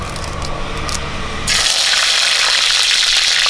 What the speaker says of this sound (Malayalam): അപ്പോൾ നമുക്ക് കുറച്ച് വെളിച്ചെണ്ണ ഒഴിച്ച് കൊടുക്കാം.